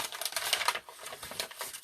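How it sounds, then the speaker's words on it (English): Coffee-dyed paper being handled and rustled up close, quick crisp crinkling and crackling bursts at an uneven pace, fairly quiet with no talking. "I love the sound of coffee dyed paper."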